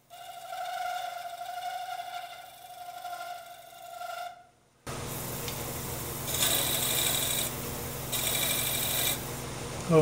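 A madrone hollow form spins on a wood lathe and gives off a steady tonal hum, a near, even whine with a slight vibration in it. It stops abruptly midway and is followed by louder broadband grinding and hissing noise.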